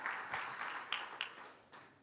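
Faint, thin applause from a small online group during a children's workshop, a soft continuous patter of claps with a few sharper individual hits, heard at a distance.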